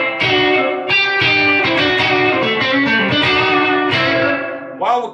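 Electric guitar played through a Victory Sheriff 44 amp with reverb turned up, ringing chords and single notes with long decaying tails, loud and close, alone.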